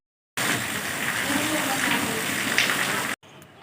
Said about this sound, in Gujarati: આ જુઓ તમે પાણી ભરાઈ ગયું છે